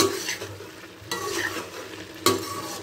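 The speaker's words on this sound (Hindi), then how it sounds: "आप जो है ना आंच तेज़ करेंगे और इसकी भुनाई कर लेंगे अच्छे से" Potatoes stir-fried over a high flame, with a steady sizzle under repeated scraping stirs and a sharp clatter of the utensil against the pan near the end.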